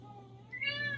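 A house cat gives a single short, rising meow close by, clear and moderately loud over a quiet room hum.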